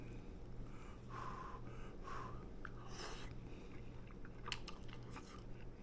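Someone eats a hot breakfast muffin with an egg base, using a fork; soft, close chewing and crunchy bites come in bursts with occasional breaths, and no one speaks.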